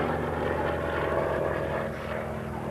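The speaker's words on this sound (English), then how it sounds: "And owner-driver for this aircraft this afternoon, Mike Cripple," An aircraft flies at the 1992 RAF Coningsby airshow, its engine drone steady and fairly loud, filling the whole stretch with a broad, continuous roar and no voices over it.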